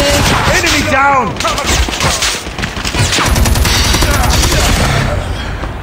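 Shotgun fire in the mobile video game Call of Duty Mobile comes as repeated sharp blasts amid a busy battle with other gunfire and impacts, while someone talks excitedly over the shooting.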